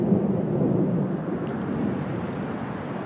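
A low, rolling rumble of thunder lingers after a nearby lightning strike during an Arizona monsoon storm, a steady distant roar that slowly fades over a few seconds with no talking.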